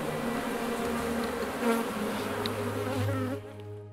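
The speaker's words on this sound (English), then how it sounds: "Bees are so organized." Close, steady buzzing of bees, a dense droning hum with individual insects swelling louder as they pass nearby before fading.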